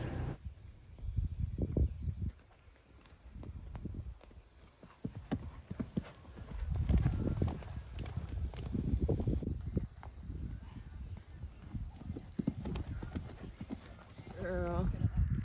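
Horse in a slow, even-paced trot during training, hooves clip-clopping in a steady rhythm at close range while people talk over it.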